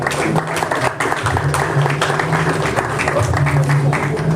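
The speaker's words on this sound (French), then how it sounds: "vous demander d'applaudir Pat les gourous qui est avec nous" An audience applauds a guest introduced at a French-language literary reading event, steady clapping with a low hum running beneath it.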